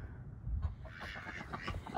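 Backyard laying hens cluck just before feeding, with a quick run of low, close clucks and soft murmuring calls from the flock, fairly loud and continuous, no talking.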